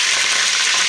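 Chicken pieces fry in very hot oil for a kabsa, a loud, dense, close sizzle with no pauses or talking.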